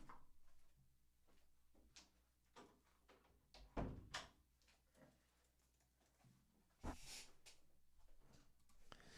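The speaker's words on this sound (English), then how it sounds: "close the door real quick." An indoor door is pulled shut with faint, muffled thuds and knocks over quiet room tone. A sharper thump stands out near the end.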